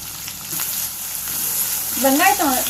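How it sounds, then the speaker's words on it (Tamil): Onion and green chili frying in a pan for chicken chukka: a loud, close, continuous sizzle with light stirring, and a short burst of voice near the end. "வெங்காயம் வந்து நல்லா வதக்கிக்கலாம்"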